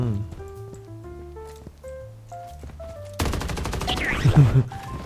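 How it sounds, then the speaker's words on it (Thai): Rapid bursts of automatic gunfire from the shooter video game Blood Strike crash in loudly and close after background music, sustained and rattling to the end. "ยิงแบบกลางอากาศ"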